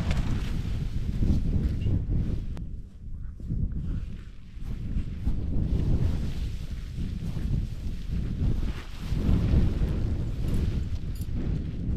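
Breezy wind gusting around a wild camp on Glaramara in the UK Lake District, a steady loud low roar buffeting the microphone, rising and falling in surges across the whole stretch with no speech.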